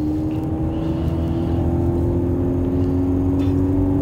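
A Mercedes 190E with a rough-running, non-starting fault holds full throttle from inside the cabin, a steady droning engine tone that stays flat without rising, loud and continuous throughout.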